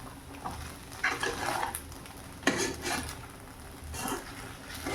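A spoon stirs sabudana khichdi in a pan, giving soft scraping and clinking strokes at irregular intervals over a low sizzle, fairly faint and without talk.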